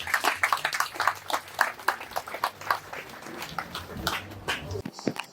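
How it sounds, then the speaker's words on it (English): Audience clapping at a road-safety gathering in Lagos, with a member of the Federal Road Safety Corps being welcomed; scattered, moderately loud claps run steadily under a person talking throughout. "A round of applause for them as they are come in."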